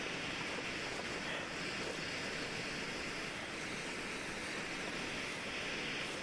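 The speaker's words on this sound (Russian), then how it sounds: "Тут есть еще одна река" Steady, close rush of river water flowing through a frozen wilderness in the survival game The Long Dark, a broad continuous wash with no voices over it.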